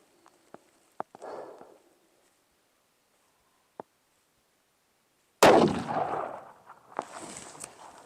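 A single loud 7mm PRC factory-load rifle shot cracks out sharply after a few faint clicks and taps, then rolls off in a long echoing boom outdoors.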